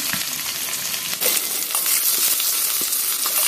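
Chopped garlic and cumin seeds fry in hot oil with a loud, close, bright sizzle that intensifies partway through, with faint stirring scrapes and no voices.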